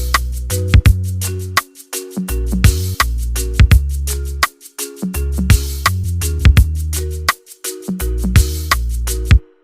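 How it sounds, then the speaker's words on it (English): Layered marimba and kalimba play a bright, plucked melody in quick tuned notes with short pauses, for an FL Studio remake of a South African song, clear and loud, no voices. "I layered two marimba and kalimba."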